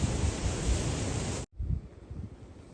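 Strong wind buffets the microphone on the Kanchenjunga trek, a loud rushing roar that drops out sharply for a moment, then returns as softer gusts.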